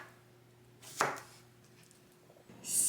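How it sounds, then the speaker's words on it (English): A knife slices through a cucumber on a board, giving one sharp, close chop with a short ring, followed by a quiet pause and then a brighter scraping or cutting sound at the end. "Let's slice this cucumber."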